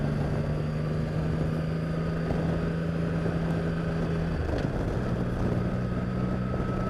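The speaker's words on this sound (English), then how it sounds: "I love the tone on this engine." A 2016 Triumph Rocket III Roadster motorcycle engine holds a low, steady droning tone while riding, with wind noise buffeting the microphone and a slight shift in pitch near the end.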